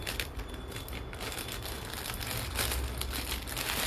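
Plastic wrapping crinkles steadily as jewellery packages are unpacked, a close, continuous rustle and crackle lasting a few seconds, with no voices.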